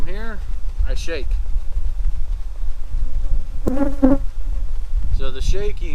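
Bees dying in an alcohol-filled jar during a Varroa mite wash, giving a close, loud buzzing with rising and falling whines in bursts between quieter stretches, over a low background rumble.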